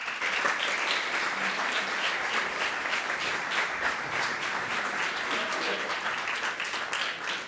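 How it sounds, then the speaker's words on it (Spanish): Audience applause fills a lecture hall at a medical faculty event as a doctor is welcomed to speak, a steady, dense clapping that stays loud and even throughout with no talk over it. "recibimos con un cálido aplauso al doctor Albano."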